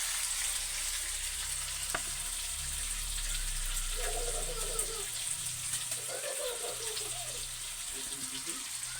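Aromatics sautéing in a pan for dinuguan with papaya, a soft continuous sizzle with occasional stirring scrapes, fairly quiet and close throughout, with a faint low hum beneath.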